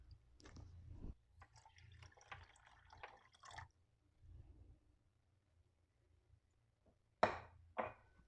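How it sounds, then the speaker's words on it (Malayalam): Half a cup of water trickles and splashes into a vessel of sugar in a home kitchen, producing faint, intermittent pouring and dripping sounds followed by a couple of sharp clinks near the end. "ഇതിലേക്ക് 1/2 കപ്പ് വെള്ളം ഒഴിച്ചു കൊടുക്കുക."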